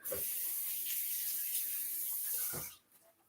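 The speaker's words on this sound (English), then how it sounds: "Then I'll wash my hands." Tap water runs steadily into a sink during handwashing, a close, even hiss that cuts off near the end, leaving a quiet room.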